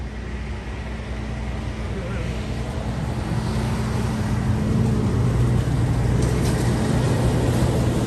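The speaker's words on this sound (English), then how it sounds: "A lot of traffic." Road traffic rumbles past in a low, continuous wash with a faint engine hum, building gradually and growing louder toward the end.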